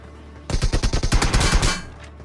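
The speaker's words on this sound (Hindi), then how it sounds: "गोलियां चल गई।" In the battle royale game BGMI, a loud, close automatic burst rattles off roughly a dozen rapid shots in about a second and a half, then cuts off.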